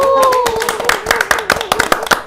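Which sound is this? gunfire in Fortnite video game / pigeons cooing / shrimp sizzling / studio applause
studio applause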